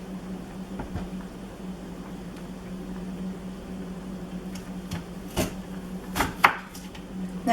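A knife slicing half an onion into thin slices, soft taps on a board at first, then several sharper, close chopping strikes toward the end over a steady low hum.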